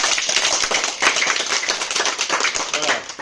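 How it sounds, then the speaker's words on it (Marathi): A group of children in a Satara Zilla Parishad school happiness-curriculum mindfulness session claps with five fingers: dense, overlapping, steady claps from many hands, fairly close and continuous throughout. "5 बोटाने टाळी"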